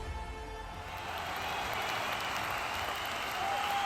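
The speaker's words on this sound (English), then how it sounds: "a crowd gathers around to celebrate his victory" A crowd applauds and cheers after Beast Boy defeats the Hellhound, a dense, continuous wash of clapping that builds slightly and stays steady and close throughout.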